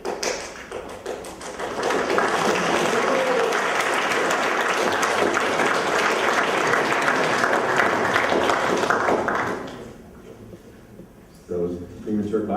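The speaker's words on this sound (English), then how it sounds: "So premature clapping" Attendees at a software architecture tech talk in Odessa give a full, sustained round of applause lasting about ten seconds before it fades, after which a presenter's voice resumes speaking.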